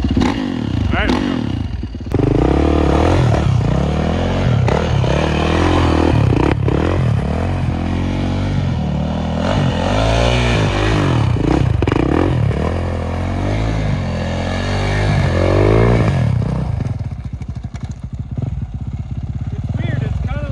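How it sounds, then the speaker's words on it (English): A motorcycle does a sloppy burnout on a podium, the engine revving hard and wavering up and down in repeated surges, with tire scraping and clatter, loud and close throughout. "That was a very sloppy podium burnout"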